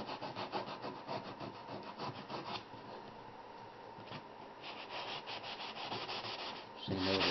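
Steady back-and-forth rasping of a sanding block over the rounded-over edges of a wooden key rack, continuous and close, with a short pause around the middle and a heavier stroke burst at the end.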